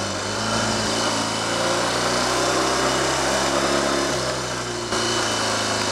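Triumph/Royal Enfield Trifield 500 trials motorcycle engine revs hard and continuously, a loud buzzing, clattering roar held at high revs with slight swells and a brief dip near the end, close to the listener.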